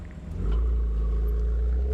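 A BMW M4 GTS drives through the Sunset corner at Kyalami circuit, its engine swelling into a deep, loud, close-up rumble that holds steady as the car powers on.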